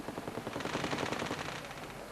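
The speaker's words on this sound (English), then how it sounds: "No. Fireworks." Fireworks crackle in a rapid, dense barrage of sharp pops, steady and fairly loud for the whole stretch, with no voices.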